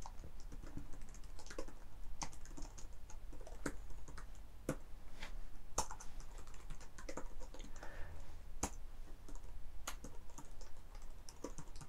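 Computer keyboard typing code, a steady stream of close, crisp key clicks with a few louder strokes, continuous for about twelve seconds with no talk.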